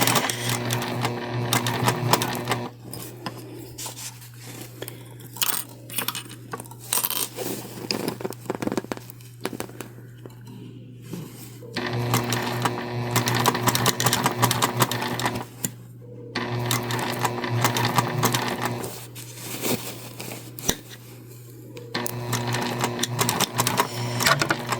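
A sewing machine runs in bursts as it stitches and back-stitches a placemat pillow. Short pauses break the rapid mechanical whirring, and it is fairly close.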